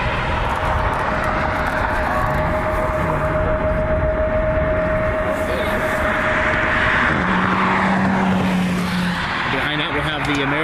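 An Embraer E175 jet taxis toward the runway at Cleveland Hopkins airport, a loud, continuous engine roar with a high whine, while people talk over it.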